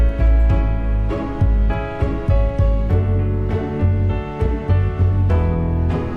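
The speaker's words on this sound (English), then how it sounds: "So now we have that nice Ezkeys piano line" A piano line from the Ezkeys virtual piano plays alone, close and full, with a steady rhythm of repeated chords and melody notes ringing over sustained low tones for the whole stretch.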